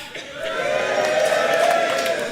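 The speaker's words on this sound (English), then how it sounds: "Give us a cheer at the back." A crowd at a Reform Suffolk political rally raises a sustained cheer from the back of the hall, a broad, steady roar of many voices holding for a couple of seconds.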